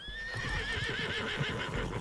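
A horse whinnies loudly with a long, wavering neigh while hooves clip-clop steadily beneath it, close and continuous, in the video game Love and Deepspace.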